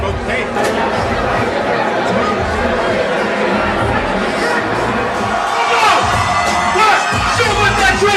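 Dense crowd at a 1987 Denver rap show, cheering, whooping and chattering in a loud continuous roar with shouts rising above the babble throughout.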